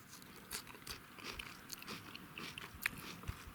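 Faint, close crunching bites and chewing of firm, crisp Karlita grapes, irregular crisp crackles over a few seconds without talk.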